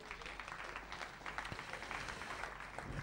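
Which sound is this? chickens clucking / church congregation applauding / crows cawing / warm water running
church congregation applauding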